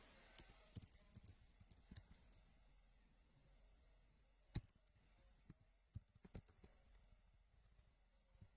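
Keys on a computer keyboard are typed in quiet, irregular bursts of soft clicks with brief pauses and a sharper tap partway through, close and faint.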